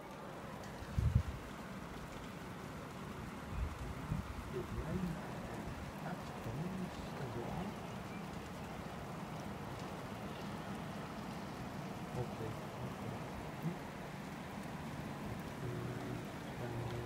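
Heavy rain pours down steadily in a storm, a dense, continuous hiss of falling water with a few louder bumps near the start and no break throughout.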